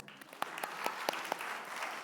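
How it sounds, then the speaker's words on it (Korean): Short burst of congregation clapping during a Sunday church service, a dozen or so scattered hand claps over a soft crowd murmur, brief and moderately near. "박수"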